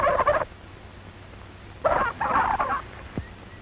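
Turkey cock gobbling on a 1930s poultry farm, two loud rattling bursts close by, the second longer and broken into several pulses, with a quiet pause between them.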